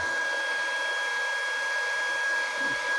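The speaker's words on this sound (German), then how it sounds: "Lass dich föhnen." A hair dryer blows steadily on the painted base of a Lord of the Rings Saruman bust, a continuous close, even whir with a high whine that holds unchanged throughout, no talking.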